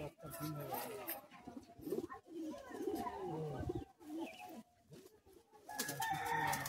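Kolkata high-flying Madrasi pigeons coo and flutter in their cages, the soft bird calls continuous at close range beneath someone talking.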